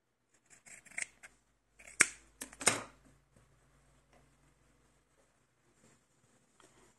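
Scissors snip through fabric for a doll's T-shirt dress, a few quiet crisp cuts clustered near the start, then near silence.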